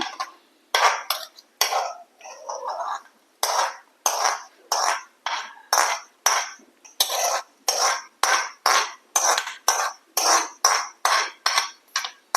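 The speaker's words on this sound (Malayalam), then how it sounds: "നമുക്ക് ഒന്ന് കലക്കി കൊടുക്കുക നമ്മുടെ ഉണ്ണിയപ്പത്തിൻ്റെ മാവ് ഇവിടെ" Unniyappam batter of ground cumin, coconut bits and water is stirred by hand in a bowl, giving a steady run of quick scraping, slapping strokes about twice a second, close and fairly loud, with no talking.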